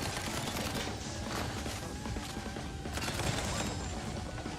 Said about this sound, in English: Can your stuff stop shooting?